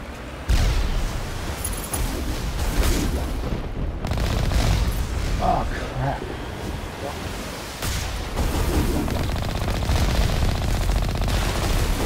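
Enemy rocket fire and explosions in the Mass Effect video game, a dense, loud barrage of blasts and booms with rumbling low end running nearly continuously, briefly dipping before resuming.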